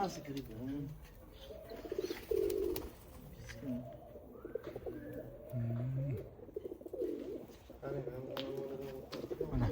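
Pigeons of the Tashkent breed coo repeatedly at close range, soft throaty rolling calls overlapping one another, with people talking intermittently underneath.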